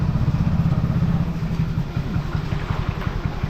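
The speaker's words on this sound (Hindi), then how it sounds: "पर बहुत अच्छी बाइक चलाई है वीरू ने ना" A motorcycle engine chugs steadily while riding over a rough village road, its close, pulsing exhaust beat loud throughout, with the rhythm tightening and quickening in the last second.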